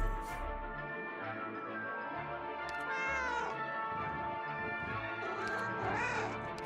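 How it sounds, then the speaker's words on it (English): A cat character in the Arknights video game lets out a few drawn-out meows and a whiny caterwaul, clear and close, set against quiet game background music. "the cat doesn't meow in English"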